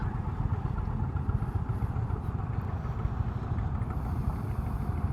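An Indian Chieftain motorcycle engine idles at around 750 to 800 rpm, a steady, close, loud low rumble with a fast even throb that carries on alone throughout.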